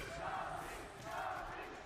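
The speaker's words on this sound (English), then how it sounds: "And the crowd is erupted with chants of something." Arena crowd at a Valorant esports match, PRX vs AG at Masters Santiago, chanting in unison, a broad sustained roar with rhythmic swells that fills the whole clip, dense and mid-distance.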